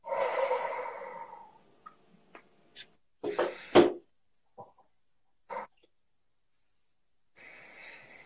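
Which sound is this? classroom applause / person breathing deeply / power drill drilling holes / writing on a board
person breathing deeply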